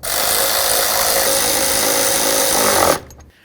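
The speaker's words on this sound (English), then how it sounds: "Let's put in our mounting bolts and snug those up as well." A power tool snugs the engine mount bolts on a 2007-12 Nissan Sentra: a loud, close, continuous whirring buzz runs for about three seconds, then cuts off abruptly and fades out.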